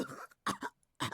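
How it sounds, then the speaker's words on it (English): Coughing in the video game Chaos;Head Noah: three close bursts of harsh, throaty coughs separated by short gaps, loud and alone with no talk. "I kept on coughing, struggling desperately to get oxygen in my lungs."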